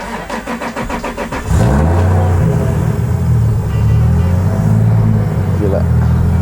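A Toyota GT86 fitted with a 2JZ engine and anti-lag cranks with a rapid rhythmic churn, catches and roars to life, then idles loudly with a few throaty revs.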